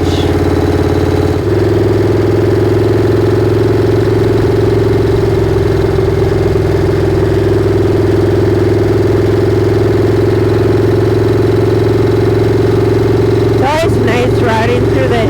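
A vehicle engine runs steadily during an evening ride through hilly terrain, a constant mid-pitched drone holding throughout with a brief rougher flutter near the end.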